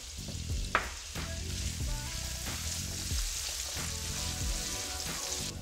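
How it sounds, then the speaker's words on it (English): Carrots, peppers and onions sauté in a pan for chicken pot pie, giving a steady, close sizzle throughout with scattered stirring scrapes and one sharp clack near the start. "I'm gonna saute this for about 5 to 7 minutes"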